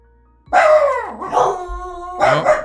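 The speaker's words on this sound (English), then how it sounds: "You dogs just need to cool it. Don't bark, dogs." Dogs bark and howl at someone outside, loud and near, with a drawn-out wavering howl followed by another sharp bark.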